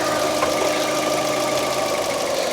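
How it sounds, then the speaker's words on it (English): A Fiat 500 Lounge petrol engine idles steadily and fairly loudly close by, with an even hum and faint knocking vibration and no audible start. "I am just going to start the engine"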